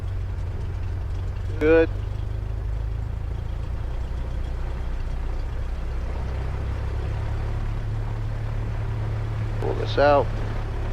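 Cessna 172 engine idling on the ground, a steady low drone filling the cabin throughout, with a voice speaking briefly over it twice.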